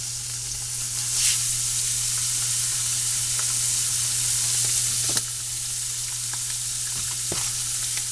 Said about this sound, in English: We are going to put our fish in,